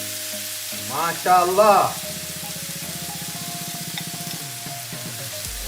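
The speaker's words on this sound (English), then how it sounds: "Hear the sizzling sound." Food frying in a pan gives a steady sizzle with some stirring, while a voice speaks loudly near the start.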